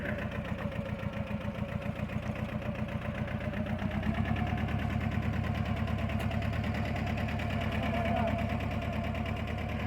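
John Deere 650 tractor running on a ranch, a steady rhythmic diesel chug near and fairly loud, holding an even pace with a slight rise partway through.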